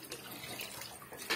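Water pours into tamarind rasam with drumstick leaves, a short, faint, soft splashing trickle with a slightly louder splash at the end.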